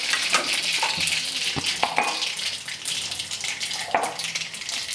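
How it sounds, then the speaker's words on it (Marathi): Mustard seeds and cumin sizzle and crackle in hot oil, a steady close frying hiss broken by sharp pops and spits, with no talking. "तेल गरम झालेले यामध्ये आता 1 चमचा मोहरी टाकणार आहे."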